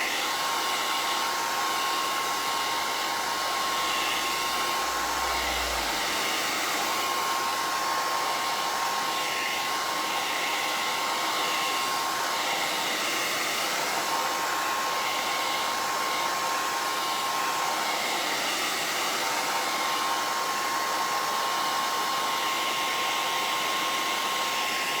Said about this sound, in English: So we're going to hit this with the blow dryer one more time.